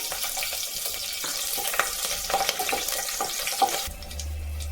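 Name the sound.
green chillies sautéing in oil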